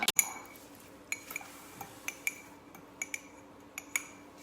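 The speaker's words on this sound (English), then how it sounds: "Are you mixing it up, Romi?" A spoon stirs baking ingredients in a bowl, giving light, fairly regular clinks and taps against the side with quiet pauses between them. No one speaks.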